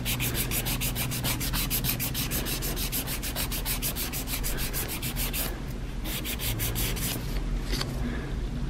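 A nail file rasps across a fingernail in quick, even back-and-forth strokes, close and continuous, pausing briefly toward the end before resuming.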